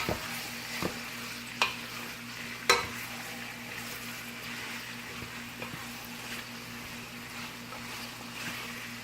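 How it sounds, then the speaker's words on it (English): Curry chicken stirred in a frying pan for Jamaican curry chicken, a soft continuous sizzle under a low steady hum, punctuated by a few sharp spoon knocks against the pan. "Just mixing everything in so that way the curry's not really burning. Nothing's really sticking to the pan."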